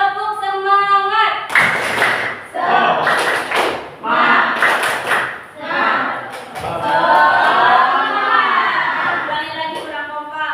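A class of schoolchildren performs a chanted clapping routine with their teacher, bursts of rhythmic group claps and thumps alternating with loud sung and chanted voices, the whole group close and energetic.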